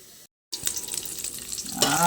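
Hot oil sizzles and crackles in a pan while sautéing for a meat and vegetable soup, a steady close hiss after a brief silence, swelling louder near the end as more goes in.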